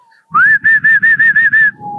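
A person whistles an imitation of the Silbón legend's whistle: about seven rapid, evenly spaced, bright pulses of a steady pitch, close and loud, with a short rising note at the start.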